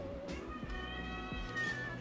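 A cat wearing a Weenect GPS tracker meows, with a drawn-out tonal cry rising toward the end, fairly quiet and close, against faint background noise.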